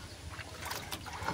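A wooden boat is paddled with an oar. There is a brief, faint wash of water and soft paddle splashes against light wind noise.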